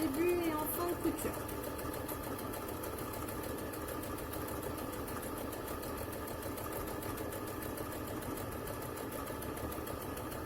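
A sewing machine stitching the second side of a fabric face mask runs in a steady, fast mechanical whir that holds at an even level for the whole stretch, heard close up.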